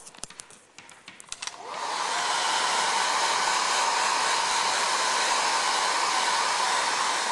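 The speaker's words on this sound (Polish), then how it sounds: "Jeden raz wystarczy, cieniutko suszymy suszarką." A hair dryer switches on after a second of faint handling noise and then blows in a steady, loud, continuous whoosh, drying a thin layer of paint on a decorative mask.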